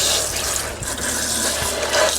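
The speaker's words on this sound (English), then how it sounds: "I'm going to step over to the sink and just rinse it out with water" Tap water runs into a sink while a crafting item is rinsed out, a close, steady wash of flowing water with faint splashing and no voices.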